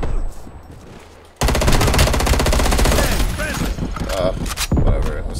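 Rapid automatic gunfire in the shooter video game Call of Duty: Black Ops Cold War starts abruptly and rattles loud and sustained for several seconds, with quieter sounds before it and speech mixed in.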